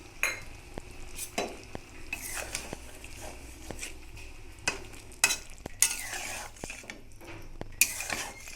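A spoon stirs ridge gourd with ground poppy seed paste and a little sugar in a pan, giving soft scraping and clinking strokes against the metal over a faint sizzle, with occasional sharper knocks, close up and with no talking.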